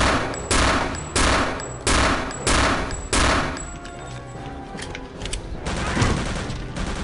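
Heavy gunshots from a weapon in Return to Castle Wolfenstein, five loud evenly spaced blasts each ringing out, followed by scattered quieter shots and rumbling game noise.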